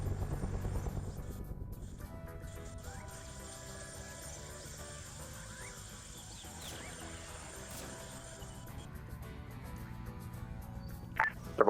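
Faint droning engines of two biplanes in a Vietnam War flight combat game hum steadily in the distance, with a few small clicks and a sharper noise at the very end.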